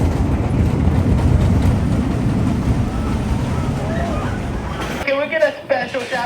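Prowler roller coaster at Worlds of Fun, with a steady loud rumble and wind roar of the ride, then a sudden drop-off near the end into quieter sound and a voice speaking.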